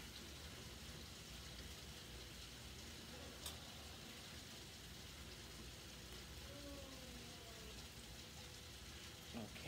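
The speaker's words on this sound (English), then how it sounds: "if you can hear the rain in the background" Rain falls steadily during a South Florida storm, a faint, constant hiss of drops heard from indoors with no other sound rising above it.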